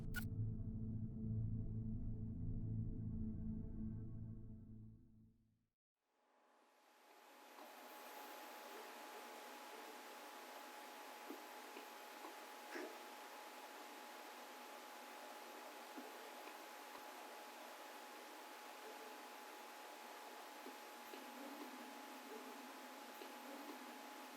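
After a brief tonal hum cuts out, a steady broadband hiss like heavy rain fills the rest, constant and even with faint ticks.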